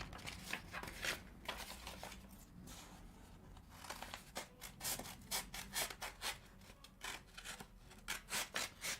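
Sandpaper rubbing against a part of a DL-44 blaster build, rhythmic scratchy strokes close by, uneven at first and then settling into a quicker regular back-and-forth rasp.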